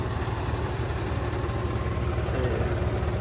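A tractor engine idles close by, steady and low, rumbling evenly throughout with no breaks or revving.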